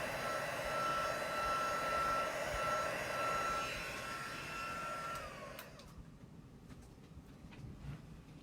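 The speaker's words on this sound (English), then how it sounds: "you can use your heat gun." A heat gun blowing continuously with a steady, fairly quiet airy whine and a thin high tone, then switching off partway through, leaving faint room noise and small clicks.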